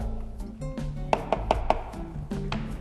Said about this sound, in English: Give it a quick stir to dissolve that salt.